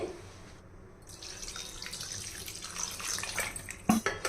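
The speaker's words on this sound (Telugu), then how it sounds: "ఇందులో ఇంకా కొంచెం నీళ్ళు పోయొచ్చండి" Water runs and splashes into a bowl in a quiet, steady trickle with a few brief drips and clinks near the end.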